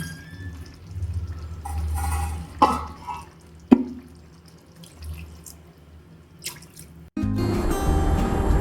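Water trickles and splashes into a pot of simmering pepper meat curry in short bursts, then a loud, steady sizzling bubble takes over at close range.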